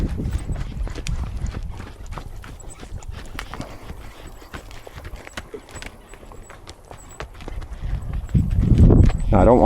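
Horse hooves clop rapidly on the ground in an uneven, galloping rhythm, with a heavy rumbling thud building toward the end.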